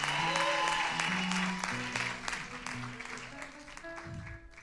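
A congregation at a church testimony service applauds for Sister Alicia, a dense, steady wash of clapping close by, with some voices and tones mixed in, gradually thinning toward the end.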